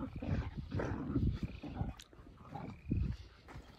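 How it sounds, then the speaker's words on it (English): Dogs bark repeatedly in an outdoor setting near a dirt bike track, several rough, irregular barks fairly close and loud, with no talk over them. "Silly dogs."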